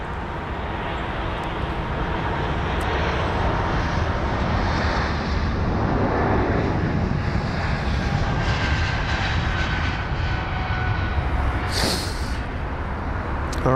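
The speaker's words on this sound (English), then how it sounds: "AF15814 for the Air France A220-300. That's just rotated with the Reg Foxtrot Hotel Zulu uniform." An Air France Airbus A220-300 takes off at London Heathrow, a loud sustained jet engine roar that fills the whole stretch without letting up, with wind buffeting the microphone.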